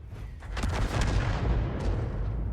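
M53/M55 self-propelled artillery rounds firing in a tank video game on the Oxagon map, a pair of heavy booming shots with rumbling low-end tails, fairly loud and close.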